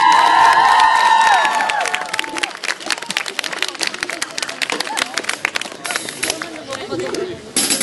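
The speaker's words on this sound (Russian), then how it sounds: "Итак, вы готовы? Похлопайте." An audience at a dinner event applauds, with dense, sustained clapping that builds after the first couple of seconds. Crowd voices and some whistling tones mix in near the start.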